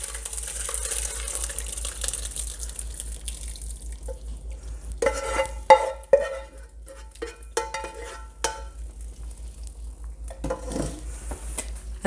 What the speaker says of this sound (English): And then stir this up